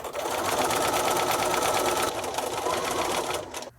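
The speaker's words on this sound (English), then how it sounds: "we're going to stitch with a 1/2 inch seam allowance" A sewing machine stitching a half-inch seam on a kitchen towel, a steady rapid whirring run, close and loud, slowing briefly before stopping at the end.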